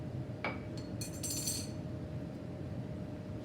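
A utensil clinks against a glass while copper(II) chloride is stirred into water, a few light taps and a short rattling flurry near the start over a steady background hum.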